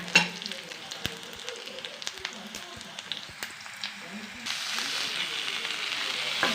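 Beans and onions fry in oil in a pan for beans sambar, a steady soft sizzle with scattered crackles and stirring clicks that swells into a louder, denser hiss near the end, with faint talk.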